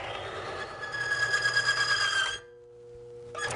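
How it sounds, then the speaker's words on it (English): An AMSOIL one-arm bandit oil pressure test machine runs with its roller flinging oil, giving a steady motorized whir with a high whining tone for a couple of seconds before it drops away and briefly picks up again. "We'll turn this on, and you'll see the oil flinging from the roller."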